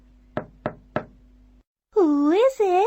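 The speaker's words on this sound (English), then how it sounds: "He knocked on the door." Three evenly spaced, crisp knocks on a door, close and clear against silence, followed by a voice speaking.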